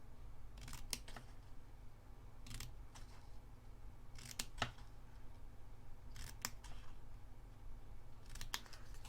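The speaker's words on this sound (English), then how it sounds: "Turn your card round and cut." Scissors cutting through card stock for a scrapbook page, with about five separate snips spaced a couple of seconds apart, close and crisp over a low steady hum.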